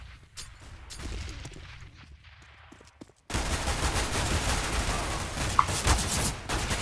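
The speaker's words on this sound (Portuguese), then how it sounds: "Throwing smoke. Grenade out. Throwing flashbang." Counter-Strike: Global Offensive match with rapid gunfire bursts: quieter scattered shots and footsteps first, then a sudden louder stretch of dense, continuous firing and explosive blasts.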